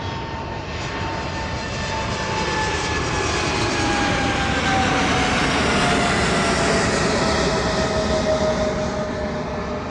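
An aircraft climbing steeply on departure from East Midlands Airport makes a loud, roaring engine noise with a high whine sliding slowly downward as it passes close by and recedes, and no one talks.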